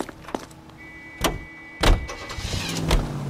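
Car in the video game L.A. Noire: doors thump shut at close range, a short whine sounds, and the engine starts and rumbles steadily as the vehicle pulls away, with no talk.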